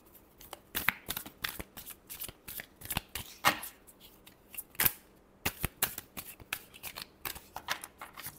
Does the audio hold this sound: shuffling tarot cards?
yes